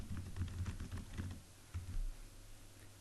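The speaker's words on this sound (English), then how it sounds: "I'll type my website name" A computer keyboard is typed on in quick, soft bursts of key clicks that fade to near silence partway through, quiet and close with no talking.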